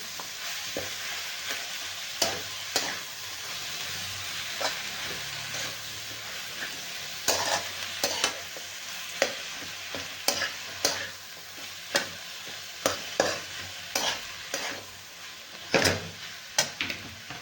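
Onions stir-fried in a pan for a brinjal bharit dish, a steady sizzle broken by regular sharp spatula scrapes and taps against the pan, close and alone without speech.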